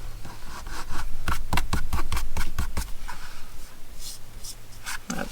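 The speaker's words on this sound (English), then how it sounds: "We'll just rub that off." Quick scrubbing strokes rubbing glue off a book cover, a burst of about a dozen short rasping rubs close up, followed by a few softer scrapes.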